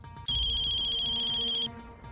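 A phone ringtone sounds once, a short, bright electronic tone lasting just over a second, fairly clear against a quiet indoor background.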